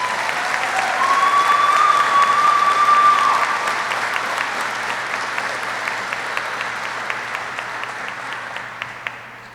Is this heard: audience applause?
yes